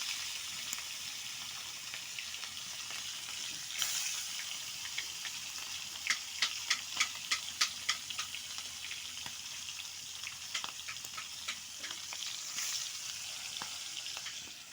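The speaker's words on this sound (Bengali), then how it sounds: "কড়াই তেল গরম হয়ে গেছে, মাছ ছাড়বো।" Hilsa fish fries in hot oil in a wok with a steady, bright sizzle, broken by a run of sharp crackles and pops midway, close and constant throughout.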